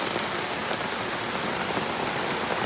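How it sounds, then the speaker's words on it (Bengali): Heavy rain pouring steadily during a downpour at a home in Bengal, a dense, continuous hiss of drops on surfaces, loud and close with no talk over it. "মানে আরো জোরে বৃষ্টি চলে এসেছে।"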